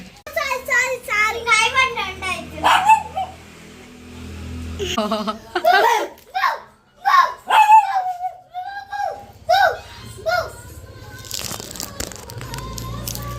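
A dog barks in short bursts at a house while children play and laugh close by. The sound is moderately loud, with voices and chuckles mixed between and over the barks.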